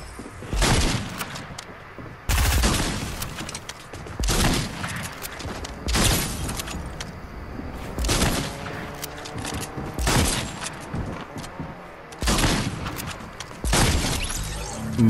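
Shotgun fire in Fortnite Battle Royale, a series of loud, sharp blasts every one to two seconds across the stretch, each with a booming decay and game effects between shots.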